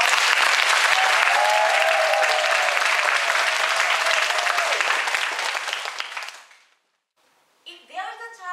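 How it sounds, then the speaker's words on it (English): Applause from an audience at a summer 2014 recitation contest, with steady dense clapping that fills the room for about six seconds, then fades out to silence before a voice begins speaking. "give her a big round of applause."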